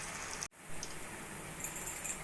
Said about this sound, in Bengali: এইভাবে চারটে চারটে করে আমি চপগুলো ভেজে নেব।